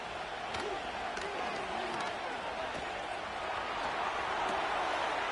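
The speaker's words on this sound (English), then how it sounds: "This crowd into it now as we get to 3rd down." A stadium crowd roars in a football video game ahead of a third-down play, a steady broad wash of cheering beneath a commentator's voice.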